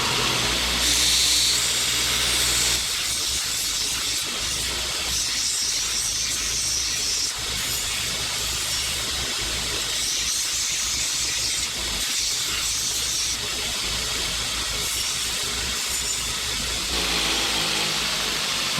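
A belt grinder rounds the edges of a metal part for a welding helmet stand, giving a loud, continuous hissing abrasive roar that holds steady for most of the stretch with brief dips between passes.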